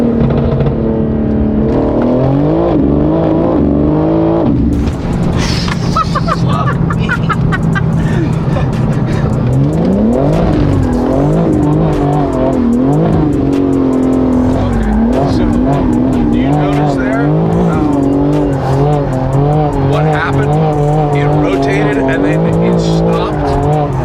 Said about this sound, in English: That's drifting.